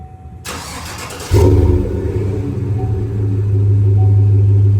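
A Chevrolet Silverado 1500 pickup with a stainless catback exhaust cranks and fires up, then settles into a low, rumbling idle that grows slightly louder, close by, with no talking.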